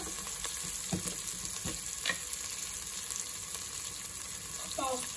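Ginger garlic paste frying in a pan for a granny-style chicken fry, a soft steady sizzle with occasional clicks and stirring knocks, fairly quiet and without voices.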